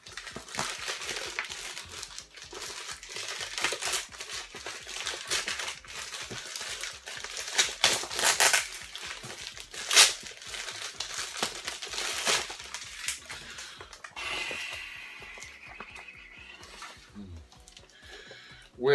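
A screwdriver prying and tearing open a package makes a long run of crinkling, crackling plastic and cardboard with sharp snaps, loud and close.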